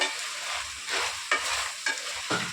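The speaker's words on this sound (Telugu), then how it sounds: "చూస్తారు కదా ఎంత మంచిగా ఫ్రై అవుతుందో ఇట్లానే ఫ్రై అయిపోవాలి మంచిగా" Ground spices fry and sizzle in a pan for Andhra-style country chicken curry, a steady hiss broken by several scraping stirs of a spoon.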